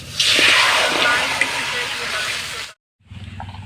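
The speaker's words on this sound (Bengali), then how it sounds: "জল দিয়ে আমি সিদ্ধ বসিয়ে দিচ্ছি গাটি" Water is poured loudly into a pot of taro set to boil, a steady close splashing rush that stops abruptly, followed by quieter clatter.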